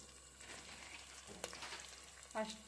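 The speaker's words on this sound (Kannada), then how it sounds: "ನೋಡಿ, ಒಗ್ಗರಣೆ ಬೆಂದಿದೆಯಲ್ವ." Spices tempering in hot oil in a frying strainer for lentil sambar, a soft steady sizzle with brief clinks and a sharper crackle near the end, fairly quiet and heard alone.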